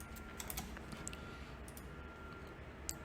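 Faint, steady typing on a computer keyboard, a soft run of small key clicks heard alone over a quiet background hiss.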